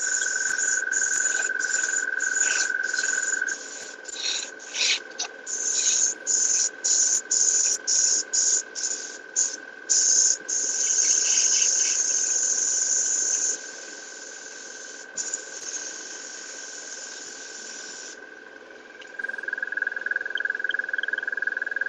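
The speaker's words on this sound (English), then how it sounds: "Your compressor sounds like a cricket." A small airbrush paint compressor gives off a high, steady cricket-like chirring, cutting in and out in rapid pulses before settling into a continuous drone, loud and close with no voices.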